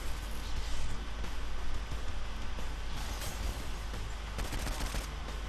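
Continuous dense gunfire and explosive chaos from the Saints Row IV video game, a loud unbroken wash of shots lasting throughout with no talking.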